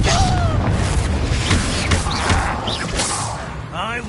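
Confringo blasting spell from the Hogwarts Legacy video game, a booming explosion with thuds and whooshes amid busy combat sounds and bits of game dialogue.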